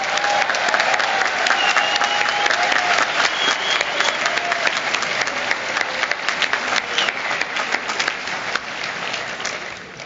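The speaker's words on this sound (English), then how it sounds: "So let's give it a big round of applause for our teachers." Sustained applause from a graduation audience honoring teachers at Bellarmine College Prep fills the space, a dense, steady clatter of many hands that eases slightly toward the end, with a few faint voices mixed in.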